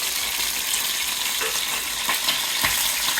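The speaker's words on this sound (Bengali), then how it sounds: "ডিম দিয়ে একটু আমি বাদামি কালার করে ভেজে নিব।" Eggs fry with onion and tomato in a pan, giving a continuous close sizzle with occasional soft clicks and scrapes from stirring.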